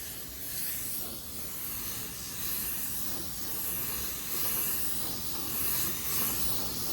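Spray gun laying a first coat of clear on panels, a continuous close airy hiss that swells and fades slightly in steady passes.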